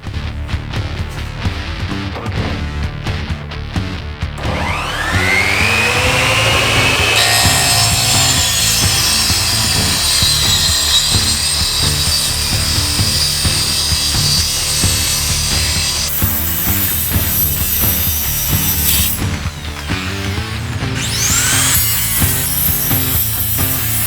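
A power saw grinds loudly through bamboo, its pitch rising as it bites in, running steadily for long stretches with a brief pause near the end.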